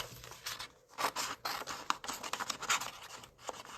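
Scissors snip and scratch through a stamped paper card image in a quick irregular series of close, soft cuts and rustles.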